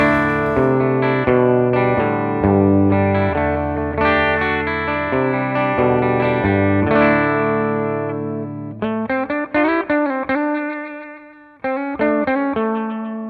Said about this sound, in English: So here's what it sounds clean, and this is going through a Epiphone standard Les Paul